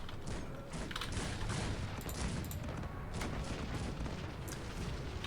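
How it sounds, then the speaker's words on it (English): Cannon and artillery fire from a Cossacks 3 real-time strategy battle, Prussia against AI armies, as a dense continuous barrage of booms and gunshots with no clear gaps, loud throughout. "their cannons can still deal a lot of damage to our units."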